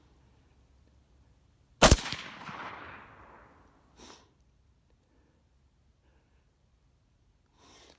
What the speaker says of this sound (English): Listen for the bullet to hit, because that is always awesome.